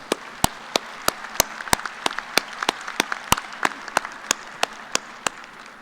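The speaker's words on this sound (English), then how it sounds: "Please join me in giving our platform party a round of applause." Applause at a graduate school fall commencement ceremony, a steady crowd patter punctuated by loud, sharp claps from someone close by at a regular rhythm.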